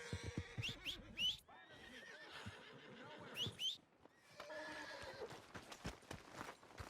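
A horse in the Red Dead Redemption 2 video game gives several loud whinnies with clip-clop hooves, repeated neighs rising and falling over about seven seconds.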